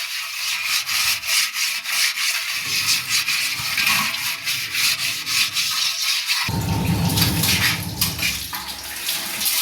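Steady, close-up scrubbing and rubbing against a hard surface, continuous and fairly loud, with a wetter, heavier stretch toward the end.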